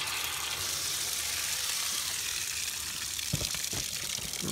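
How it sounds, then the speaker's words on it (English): Water drains from household pipes after the supply is shut off, a steady hissing rush of flowing water with a couple of brief knocks near the end. "I'm going to turn off the water right now. And drain it while we're here."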